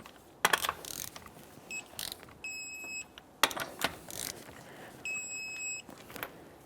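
Torque wrench tightening lug nuts on a 2001-2005 Ford Explorer Sport Trac wheel, with two sharp ratcheting clicks and clacks, each followed by a short high electronic beep, fairly close in a quiet setting.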